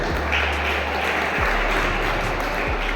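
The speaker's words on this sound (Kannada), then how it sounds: "ನಾವೆಲ್ಲರೂ ಒಂದು ದೊಡ್ಡ ಚಪ್ಪಾಳೆ ಹೊಡಿಬೇಕು ಅನಿಲ್ ಪಟ್ನೇಕರ್ ಅವ್ರಿಗೆ" Dense, steady clapping from an audience at a cricket academy and summer coaching camp inauguration in Dandeli, honoring Anil Patnekar, sustained and fairly loud throughout with no talk.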